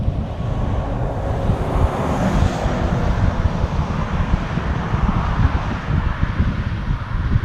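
Strong, breezy wind on a quiet road climbing a hill toward the Lowther Hills in the Southern Uplands, a steady close roar with buffeting gusts across the microphone that never lets up.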